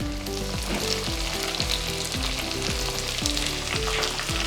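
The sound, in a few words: sliced onions sizzling in pan with fried coconut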